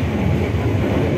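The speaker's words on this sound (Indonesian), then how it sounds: "sebentar lagi kereta api Kahuripan akan berhenti di stasiun Leles." Kahuripan economy-class train running on its rails, a steady, loud low rumble and rolling roar heard from inside the carriage, continuous throughout with no voices.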